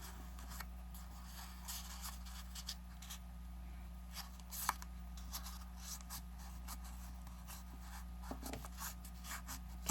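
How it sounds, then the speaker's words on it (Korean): Paper being folded by hand for an origami hexagonal two-tier box, with soft creasing and rustling scrapes repeating steadily over a constant low hum, quiet and close. "위에 나온 뾰족한 선을 밑에 꼭지점에 맞춰서 삼각으로 접어줍니다."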